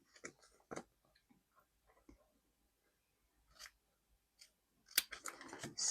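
Scissors snip through planner paper in a few sharp, sparse cuts, quiet and close, with a quicker burst of snipping near the end.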